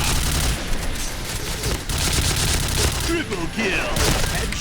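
Rapid gunfire in the online shooter Point Blank, loud and continuous bursts of shots layered over a busy game mix throughout.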